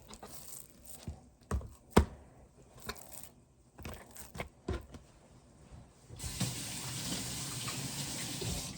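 A kitchen tap starts running steadily for hand washing after a series of scattered clicks and knocks, the water rushing as a constant close wash over the final seconds.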